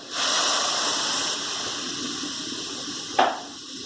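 Half soy sauce and half water poured into a pan while steaming live sleeper goby fish, a steady liquid gush and hiss running throughout, with a brief splash near the end.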